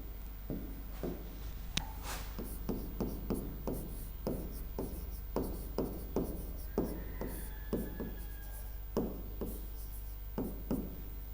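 Chalk or pen strokes on a board or paper, writing out notes on the savaiya verse meter, form a steady series of short scratchy bursts spaced through the clip, close and moderately loud, with no talking.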